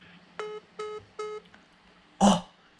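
A phone call hanging up: three short disconnect tones in a row, followed by a louder burst of sound near the end.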